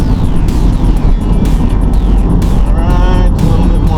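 Ford Mustang engine on a test drive, droning loudly with revs dropping and rising as the car brakes and downshifts to third, the tone sweeping between steady surges.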